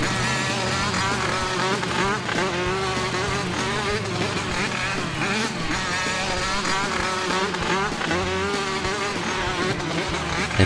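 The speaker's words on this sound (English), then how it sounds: "I do not like the engine sound" A vehicle engine in the PS2 video game Jimmy Neutron Jet Fusion produces a continuous buzzing, insect-like whine that wavers in pitch, mixed with dense game music and effects, with no speech.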